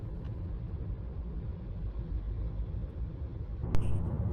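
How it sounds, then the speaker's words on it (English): A car cruising along the Moscow highway out of St. Petersburg, heard from inside as a steady low road rumble and tyre hum, with a brief sharper knock near the end. "And now I'm driving along the Moscow highway, one of the main roads leading out of St. Petersburg toward Moscow"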